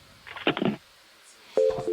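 A telephone handset being hung up after a call: a brief muffled clatter, then a steady electronic tone that sounds alone for the last half second.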